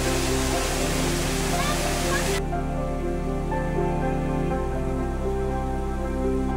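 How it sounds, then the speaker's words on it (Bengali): A rushing waterfall beside a mountain trail in Darjeeling, a loud, steady broadband roar throughout, with a faint voice briefly in the background. "ঝর্ণার শোঁ শোঁ শব্দটা আরো বেশি ভালো লাগছে"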